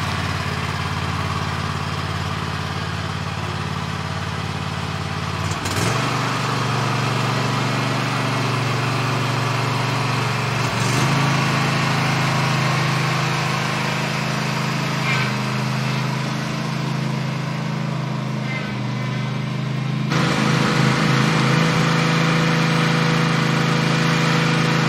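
A Husqvarna lawn mower engine runs steadily while cutting grass, a continuous low drone with slight shifts in load and pitch.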